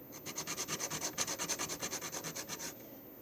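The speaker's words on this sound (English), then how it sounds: "So sand it down like that, so then it's all flat." Rapid rhythmic sanding strokes rub back and forth across a hard plastic Mega Bloks block, close and steady for about three seconds before stopping.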